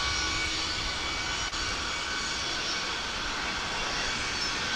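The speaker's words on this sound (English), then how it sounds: "And we do have another UPS cargo flight revving up." A UPS cargo plane's engines spool up at DFW, a continuous wide jet roar with a faint high whine, steady and moderately distant, alone without talk.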